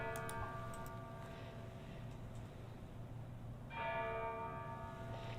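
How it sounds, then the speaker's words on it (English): Church bells ring at a distance, layered tolling tones fading and then swelling again with a fresh strike, over quiet background hum. "I wonder why there's church bells right now."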